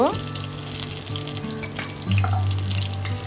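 Cardamom, cinnamon and cloves crackle in hot oil and ghee for vegetarian fried rice. The sizzle is moderate and steady, with a faint musical tune playing underneath.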